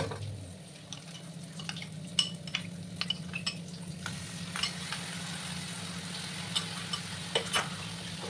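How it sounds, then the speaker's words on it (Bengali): Yoghurt and Kashmiri chilli paste being stirred into a taro root gravy, a soft steady simmering sizzle with a low hum beneath and scattered clicks and scrapes of the spoon against the pan. "তারপর এবার নাড়াচাড়া করে নিচ্ছি আমি।"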